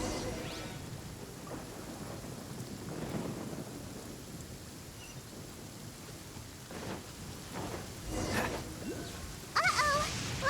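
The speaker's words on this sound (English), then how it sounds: "Uh-oh! Lightning storm!" Lightning storm in the video game Genshin Impact: steady heavy rain on surfaces with rolling rumbles of thunder that swell near the end, loud and continuous.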